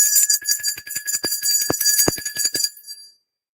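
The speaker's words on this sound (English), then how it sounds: "I'll ring the bell." A bell is struck during a grounding session, its high steady ring sustained over a run of quick, clattering strikes before stopping abruptly near three seconds, loud and close with no talk.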